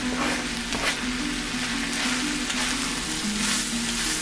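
Onion and serrano chile fry in a Ninja Foodi with a dense, even sizzle and light stirring, accompanied by a steady low appliance hum.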